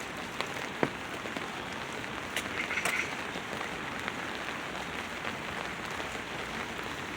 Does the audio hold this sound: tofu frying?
no